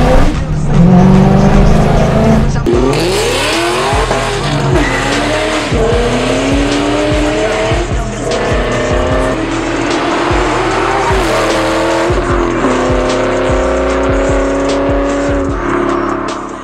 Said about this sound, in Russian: Каждый децибел этого выхлопа соответствует каждой лошадиной силе